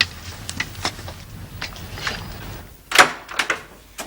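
A door in a dusty, old country house opens with a short, sharp creak or scrape near the middle, followed by a few lighter knocks and clunks in a quiet room.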